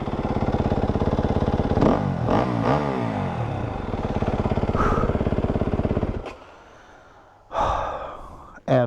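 2019 Yamaha WR250F dirt bike engine idling and revving up and down, close and loud with a rough buzzing note, dropping away briefly before a final burst of throttle, with breathy noises over it.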